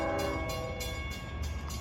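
A Long Island Rail Road eastbound train led by locomotive 403 passes close by in a steady, loud rumble, with a sustained horn-like tone and rhythmic wheel noise, and no voices.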